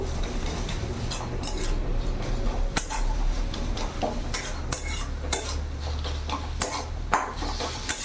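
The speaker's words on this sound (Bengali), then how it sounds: "এইভাবে একটু খুন্তি করে ঠেসে ঠেসে দেবো।" A metal spatula pressing and stirring bathua greens in a hot pan, with repeated scraping and clattering strokes over a light sizzle, close and fairly loud.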